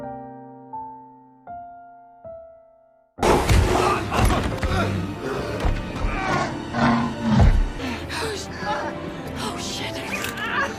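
A bear roars in the film Cocaine Bear. After a few soft piano notes, a loud burst of roaring and growling erupts and stays dense and heavy, mixed with other film sound and voices.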